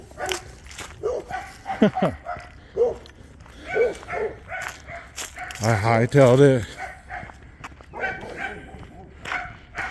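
Dogs bark and yip several times, one burst loud and close, with a person talking in between and over the barking.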